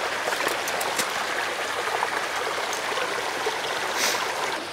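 Acidic mine drainage water flows steadily in a stream a few kilometres below a mine, a continuous close rushing and trickling wash with no voices.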